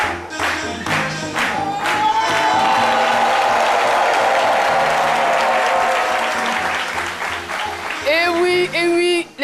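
A studio audience breaks into loud, sustained applause with some cheering on a French-language TV show. The clapping swells and holds before fading, and voices rise over it near the end.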